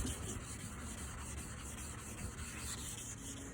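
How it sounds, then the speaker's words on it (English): Wet sanding of a car headlight lens by hand with a 2000 grit pad and soapy water, giving a steady close rubbing and scraping hiss that runs continuously and faintly, with no voices. "And use your 2000 grit and just start sanding."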